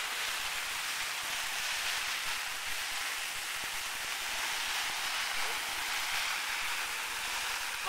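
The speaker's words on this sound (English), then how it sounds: "Raining pretty hard." Heavy simulated rain pours steadily onto a military poncho shelter, a dense, even hiss holding at constant loudness throughout with no pauses.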